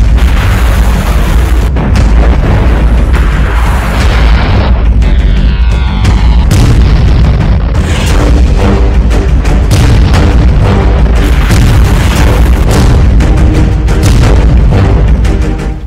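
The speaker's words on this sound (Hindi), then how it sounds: "जब से ज़ेलेंस्की ने ये आग देखी है, जब से मिसाइल के हमलों से यूक्रेन में शोलों की ऐसी बाढ़ आई है" Missile strikes in the Ukraine war around Kharkiv set off loud, heavy booms and bursts that follow one another without a break.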